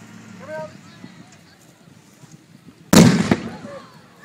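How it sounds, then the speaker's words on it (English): A single loud simulated artillery blast booms at a military reenactment, a sudden sharp burst that rumbles and fades over a fraction of a second, after quieter outdoor ambience with faint distant pops. "That's the heavy stuff coming in, a bit of artillery fire."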